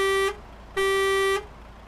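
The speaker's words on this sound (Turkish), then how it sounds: "Bakın şu havalı korna." Two long, loud blasts of a deep, brassy truck air horn in Euro Truck Simulator 2, the second held longer, separated by a brief pause.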